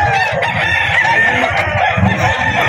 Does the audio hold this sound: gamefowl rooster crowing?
yes